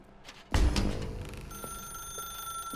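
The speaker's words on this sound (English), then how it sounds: "Now pick up the phone." Telephone ringing in the video game The Stanley Parable: a loud bell-like ring bursts in, then settles into a steady electronic trill with sustained tones, alone without speech.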